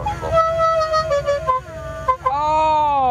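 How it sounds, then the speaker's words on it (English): Musical car horn playing La Cucaracha, a series of bright tooted notes in a quick tune over a rumbling engine, ending with a long sustained blast. "Hammond's enlivened it with his La Cucaracha horn"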